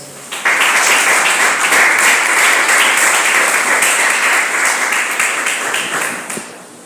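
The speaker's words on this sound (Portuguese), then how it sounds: "Você pode glorificar o Senhor com suas palmas." A church congregation at a campaign service claps hands together in a loud, dense burst of applause that starts abruptly, holds steady for several seconds, then tapers off near the end.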